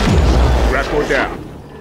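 A deep explosion in the Halo 5 Guardians video game as a gravitational core is destroyed, a heavy rumbling boom mixed with game sound effects and voice-like game audio, loud and fading out toward the end.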